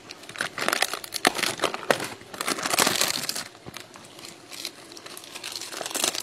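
Crinkly plastic packaging from raisins is crackled and crumpled open nearby, in bursts of rustling with a denser stretch of crinkling partway through.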